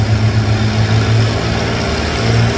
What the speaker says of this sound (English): We got an Oliver 77 coming down to Delaware.